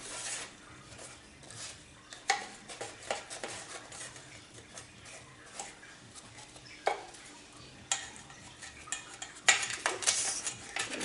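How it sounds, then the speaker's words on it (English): English muffins are turned in a pan with a utensil, making sparse scraping and light metallic clinks with a few sharper knocks over a quiet background, close by. "So I'm going to flip these over."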